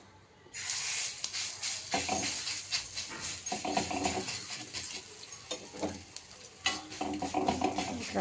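Vegetable sarva rotte frying in oil makes a loud, close, continuous sizzle and hiss that swells and eases in waves once the oil hits the pan, with no one talking.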